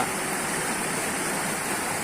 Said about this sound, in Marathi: ही वालधोनी नदी